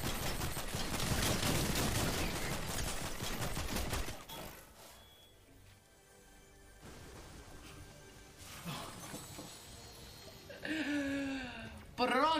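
Rapid, loud bursts of video game gunfire crackle for several seconds, then fade into quieter sounds, with voices talking near the end.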